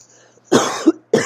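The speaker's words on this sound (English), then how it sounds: "I hope that wasn't too destructive, but I really had to cough" Two loud, close coughs separated by a short pause, each a sharp burst with a rough, breathy tail.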